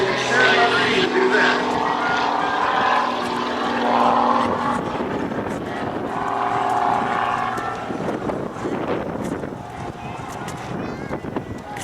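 A Pitts aerobatic airplane's propeller engine drones and surges as it spins during an airshow, a steady, fairly loud mechanical roar heard under a commentator's voice.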